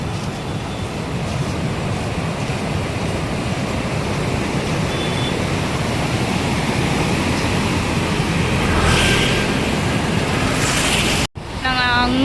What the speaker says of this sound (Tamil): இங்கே பாருங்க எவ்வளோண்டு தண்ணி போகுதுன்னு